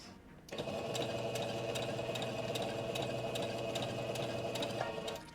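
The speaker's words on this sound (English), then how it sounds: "when you're sewing to just take it really slow" A sewing machine runs steadily while stitching miniature doll clothes, a continuous close mechanical whir with a rapid needle rhythm, starting after a brief pause and holding even throughout without speech.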